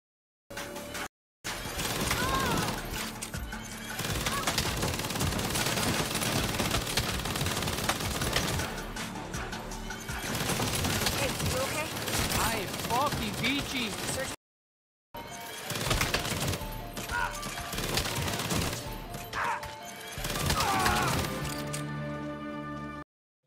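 Saints Row 5 combat, with dense bursts of automatic gunfire and laser pistol shots mixed with shattering impacts, loud and near, breaking off briefly twice before resuming.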